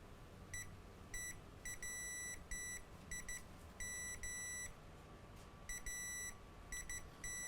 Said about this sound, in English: Let me put the meter in continuity mode.